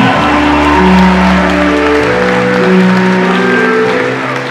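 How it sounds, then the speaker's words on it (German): An audience at the Vienna Comic-Con applauds a cosplayer dressed as Yuna from Final Fantasy X. The clapping is mixed with loud, sustained music throughout. "Applaus für Sabaku als Yuna aus Final Fantasy X."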